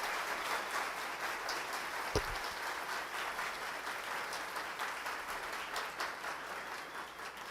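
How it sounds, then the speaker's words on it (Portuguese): An audience applauds steadily at a business talk, dense continuous clapping at a moderate level with one sharp thump partway through. "palmas para vocês"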